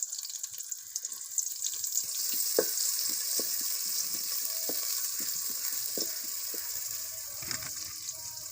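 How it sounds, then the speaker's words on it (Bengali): Chopped onion frying in mustard oil in a cooking pot, the start of a khichuri made with Gobindobhog rice: a steady, close hiss of sizzling with scattered small pops and crackles, no voices. "দিয়ে দেবো সরিষার তেল, পেঁয়াজ কুচি দিয়ে দেবো,"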